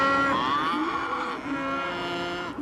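Cattle on a ranch mooing, with a loud, close, sustained bellow that rises and falls in pitch and stands alone without talk.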